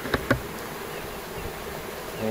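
Honeybees buzzing near the hive, a steady close hum of many wings with a couple of soft knocks at the start.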